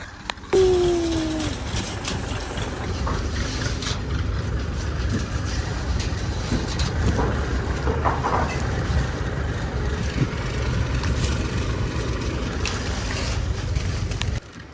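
A heavy tractor engine rumbles steadily for the whole stretch, a low continuous drone with rattling and wind noise, close by and fairly loud, on a farm during maize work.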